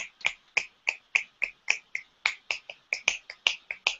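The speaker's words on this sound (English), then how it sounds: "snap your fingers" Finger snapping by participants in an online art and conscious-evolution session, about a dozen crisp, close snaps in a loose, slightly uneven rhythm, heard alone with no talk.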